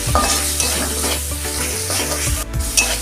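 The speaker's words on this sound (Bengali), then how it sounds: "মশলাটা ভালো মতন কষাবো" A thick ginger, garlic and green chilli paste sizzles and spatters in a hot pan as it is stirred steadily, close up with no talking.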